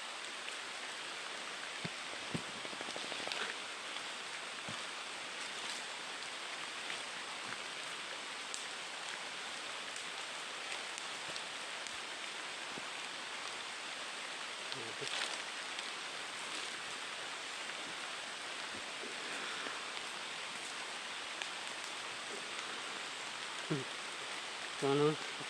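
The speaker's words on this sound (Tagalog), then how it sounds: "Lumakas na yung ulan" Heavy rain falls in a steady wash of noise that holds throughout, with a few faint knocks and thin traces of talk in the background.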